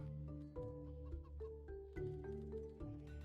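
Chickens clucking in the Stonehearth building game, a steady run of short rhythmic clucks and squawks over a sustained tonal music bed, faint and even.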